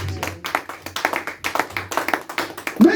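A church congregation claps along in steady, rapid bursts that fill the whole stretch. The clapping is fairly close and loud, with no voice rising above it.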